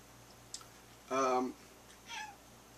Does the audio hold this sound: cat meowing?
yes